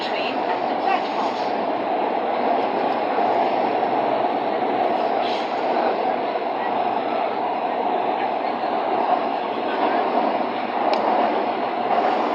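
A metro train rumbles steadily along the rails with a continuous broad roar, heard from inside the carriage approaching Howrah station, with faint tones and a possible voice beneath.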